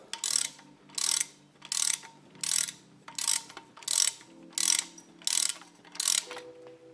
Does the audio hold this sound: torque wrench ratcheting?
yes